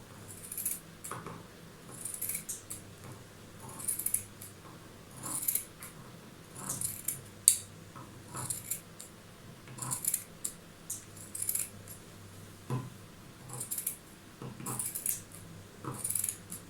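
Scissors cut fabric for a blouse sleeve band, a string of crisp, fairly quiet snips repeating every second or so, close by, with no talking.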